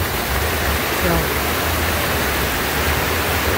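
A waterfall cascading down, heard from its top as a loud, dense, steady roar of rushing water that fills the whole clip, with a brief spoken word at the start.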